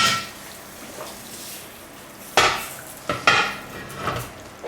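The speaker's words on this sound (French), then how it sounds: "Je mets le couvercle." A lid goes onto a cast cocotte holding a braised pork rouelle, landing in a few close metallic clanks and rattles against the pot rim, with quiet kitchen background between them.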